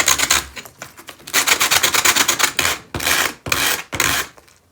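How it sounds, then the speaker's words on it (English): Rhythmic scraping of 60-grit sandpaper against a gourd, a quick run of back-and-forth strokes followed by a few longer, heavier rasps, close and fairly loud. "I'm going to go ahead and just put a piece of sandpaper down."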